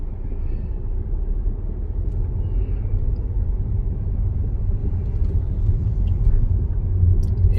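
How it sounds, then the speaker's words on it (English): Car passing through a quiet residential subdivision in Lone Star Ranch, Frisco, Texas, a low steady rumble of engine and tires that swells gradually and peaks loudest near the end, no talking. "Let's let this car go by."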